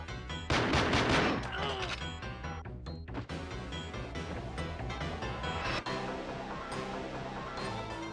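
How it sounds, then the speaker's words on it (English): Gunfire in Goldfinger 64, a dense burst of rapid shots up front followed by a short pause, then continuing rhythmic volleys mixed with clattering impacts and music-like tones, loud and close. "Dude, don't shoot your gun in here!"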